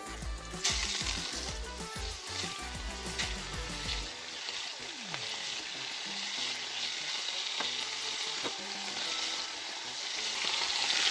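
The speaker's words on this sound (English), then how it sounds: "They're sizzling. They're gonna cook in no time." Fish searing in hot tallow in a pan, sizzling loudly and continuously with crackles and some stirring clatter, close up, with no voices.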